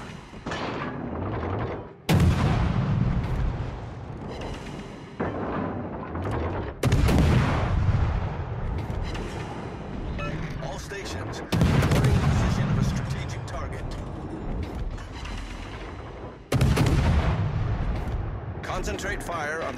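Naval artillery in World of Warships: Legends fires in a regular sequence of four heavy booming salvos, each followed by a rumbling decay, while a game voice speaks over the action.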